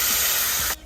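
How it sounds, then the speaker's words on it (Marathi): Water poured into a hot pan of tempered spices for a prawn curry bursts into a loud, close spray-like hiss that cuts off abruptly near the end. "पाणी घालून घ्यायचं."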